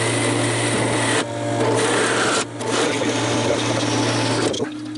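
A stop-guided cut through square tubing for a caster repair: a steady, loud, close whine of cutting, briefly interrupted twice, running throughout with no speech.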